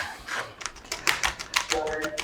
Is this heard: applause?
no